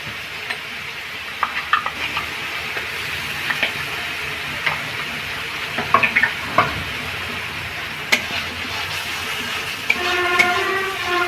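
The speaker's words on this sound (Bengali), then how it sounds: "আমি সয়াবিনগুলো দিয়ে একটু কষিয়ে নেব।" Soybeans fry with turmeric and ginger in a pan, giving a continuous sizzle with scattered spatula scrapes and taps, then a brief tonal whine near the end.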